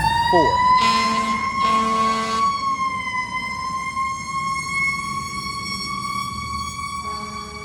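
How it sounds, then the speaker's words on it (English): A loud wailing siren holds a steady, high tone nearby, with brief bursts of rumbling noise near the start and a vehicle hum underneath. "This is ambulance number 4."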